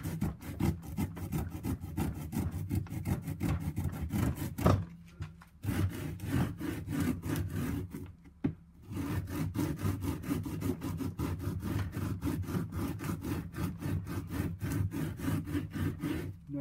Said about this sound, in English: I'm going to work on getting this worked down, I should say, with the rasp